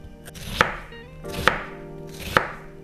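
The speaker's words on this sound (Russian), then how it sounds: "Беру луковицу репчатую, режу ее кубиком." A knife chops a whole onion into cubes on a cutting board, three sharp, evenly spaced strikes standing out clearly over a quiet kitchen background.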